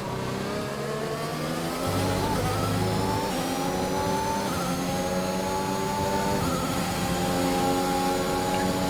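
Racing cars roar through the Emilia Romagna Grand Prix in an F1 video game, engines revving up through rising gears in a loud, continuous blend of overlapping motors with no speech.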